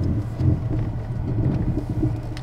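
Low engine rumble from a rental car descending Lombard Street in San Francisco, a steady vehicle drone with irregular knocking pulses throughout, fairly close and alone.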